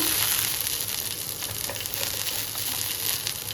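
Seven or eight garlic cloves dropped into hot oil for a tomato and green chilli thecha, giving a steady close sizzle and crackle of frying throughout, with no speech.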